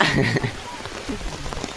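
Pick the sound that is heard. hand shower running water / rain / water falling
rain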